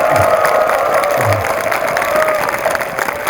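An indoor audience at a temple gathering in Miryang applauds to welcome the city's mayor, a steady wash of clapping that holds evenly throughout, loud and close, with no voices over it.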